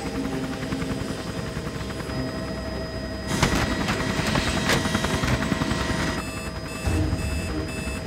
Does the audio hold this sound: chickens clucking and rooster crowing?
no